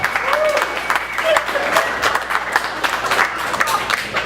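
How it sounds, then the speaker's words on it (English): Audience applause at a stand-up comedy show, a steady wash of many hands clapping close and loud with a few cheers and voices mixed in, sustained throughout. "Clap it up for yourselves."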